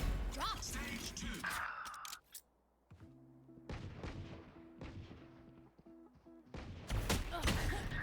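Explosions and bursts of gunfire in a shooter video game, a loud blast and crackling shots opening and closing the stretch, with sharp intermittent impacts between, under voices talking throughout.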